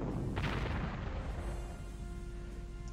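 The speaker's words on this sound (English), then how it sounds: "Now we spank him with artillery and put an auxiliary bomber in on him" Artillery in a World War II D-Day strategy game, a dense continuous low rumble of guns and blasts, loud and steady throughout with a brief sharper crack near the start.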